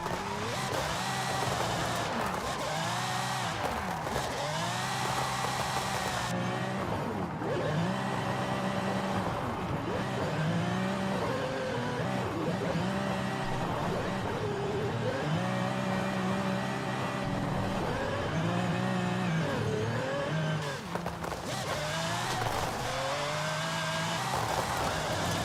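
Cars drift in tandem in the Forza Horizon 5 racing game, rear-wheel-drive engines revving and wailing in continuous loud swooping sweeps, with tire squeal rising and falling throughout and no break in the roar.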